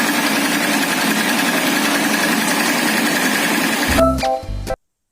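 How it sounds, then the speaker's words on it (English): A cement mixer's engine runs steadily and loudly with a dense mechanical drone, then sputters and cuts out abruptly near the end. "Cement mixer."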